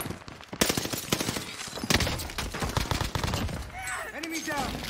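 Rapid bursts of automatic gunfire in Call of Duty: Vanguard crackle loudly and close, firing in irregular volleys, with faint game chatter and a warbling tone near the end.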